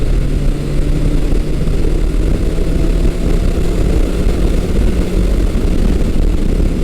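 A Yamaha XS1100 motorcycle engine on a test ride, a steady loud droning roar with constant wind-like rush and no change in pitch or pace throughout.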